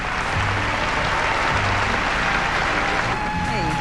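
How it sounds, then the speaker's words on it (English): Dense, steady audience applause fills a Miss Universe 1994 pageant hall as contestants in Philippine terno attire are presented, with a voice talking over the clapping. "Give them all a round of applause."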